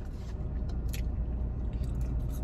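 Close, wet chewing and soft bites of a McDonald's lunch, irregular crunches and squishes over a low background rumble, no talking.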